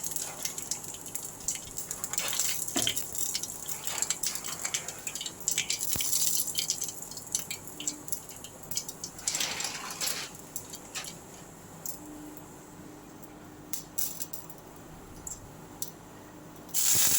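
Mustard seeds sizzle and spatter in hot cooking oil in a kadai, with a steady hiss broken by scattered crackling pops and brief louder bursts, close up. No voices.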